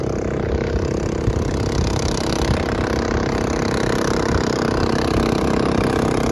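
A loud, continuous boat engine rumble holds steady throughout, a mid-pitched motor running nearby on a river at Mae Ping National Park, with a constant low throb and no speech.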